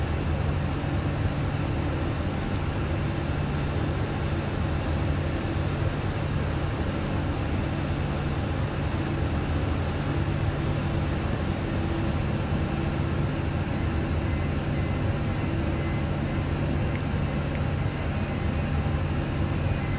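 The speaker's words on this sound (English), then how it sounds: "We have a good engine start." An Airbus A320 jet engine runs in Microsoft Flight Simulator, modeled as the Fenix A320, with a steady, loud roar and hum that holds evenly throughout, unchanged and without voices.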